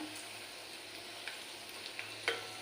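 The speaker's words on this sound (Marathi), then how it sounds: "गॅस बारीकच ठेवायचा आणि व्यवस्थित भाजून घ्यायचे भजी तळून घ्यायचे" Moong dal bhaji fry in oil over a low flame, a faint steady sizzle with a few soft clicks and stirring taps near the end, no voices.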